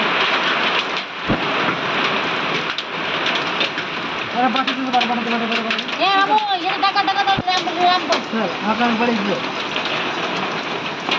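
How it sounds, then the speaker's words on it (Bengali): Heavy hail and rain pour down in a Kalbaishakhi thunderstorm in a Bengali village, a loud, dense, continuous hiss and patter with sharp impacts, while excited voices talk and exclaim over the roar. "দেখো কত জোর জোর পাথর করছে দেখো"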